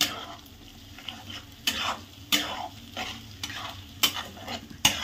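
Egg bhurji fries on full flame in a pan, giving a continuous sizzle punctuated by sharp, regular scrapes and clinks of a spatula stirring and breaking the eggs, close and distinct.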